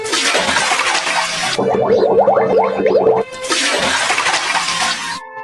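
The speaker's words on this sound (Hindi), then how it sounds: "सीता उदास मन से मटके में पानी भरती है" Cartoon water is poured into a clay pot: loud hissing splashes at the start and end frame a bubbly, gurgling fill in the middle, with no speech.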